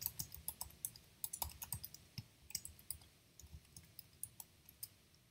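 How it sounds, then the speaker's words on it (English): Quiet, irregular keystrokes on a computer keyboard, a steady run of light clicks with short pauses, close and alone with no talking, as a name is entered into a metadata upload form. "So I will type"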